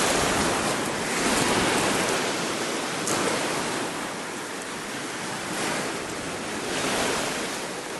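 Waves washing onto a beach, with a steady loud roar of surf that swells and recedes in gentle surges, mixed with some wind rumble and no voices.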